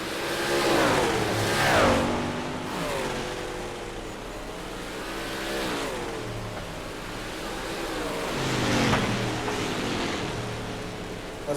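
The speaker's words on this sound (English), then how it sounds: "As the drivers continue to circulate around Lanier Speedway in this 10-minute practice session before the race." Race cars lapping Lanier Speedway in a practice session, engines rising and falling in pitch as they pass by in repeated waves, with a steady roar of traffic and no talk.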